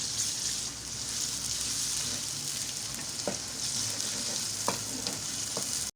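Onions sizzle steadily in hot oil as they fry to light brown, with ginger-garlic paste going in, for a moringa flower dish. Continuous loud frying hiss with a few soft stirring clicks and no talking.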